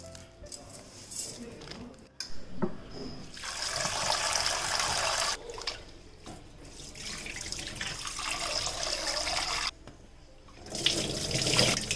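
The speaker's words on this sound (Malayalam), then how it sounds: "3 കപ്പ് പച്ചരി ഒരു പാത്രത്തിലേക്കിട്ട് നന്നായിട്ടൊന്ന് കഴുകിയിട്ട്" Water runs from a tap in bursts into a bowl of raw rice, with sloshing and splashing between pours as the rice is rinsed by hand.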